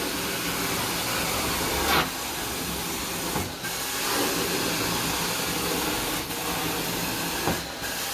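A carpet cleaning machine makes passes over carpet during a job with pet urine and stains, giving a loud, steady hissing wash of sound with brief swells as the wand moves back and forth.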